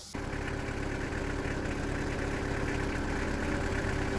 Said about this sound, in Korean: 시동을 걸어서 요 유압 실린더를 안으로 집어 넣겠습니다